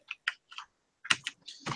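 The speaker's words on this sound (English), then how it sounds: "Oh shoot, my keyboard." Computer keyboard typing, a handful of sharp close keystrokes in an uneven rhythm separated by brief silences, no talking.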